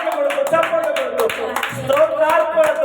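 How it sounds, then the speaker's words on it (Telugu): A church congregation claps along during a Sunday morning service, sharp hand claps recurring under a loud, sustained voice leading the worship. "చప్పట్లు కొడుతూ"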